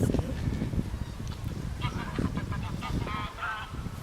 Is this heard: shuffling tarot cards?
no